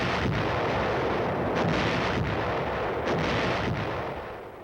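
Artillery guns firing during a sustained military advance, a continuous heavy roar with several distinct booming reports spaced about a second apart, loud and close throughout.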